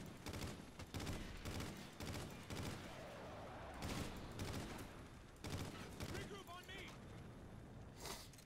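Bursts of gunfire in the video game Call of Duty Ghosts, several rapid volleys in clusters across the clip, fairly loud, with a voice talking over parts of it.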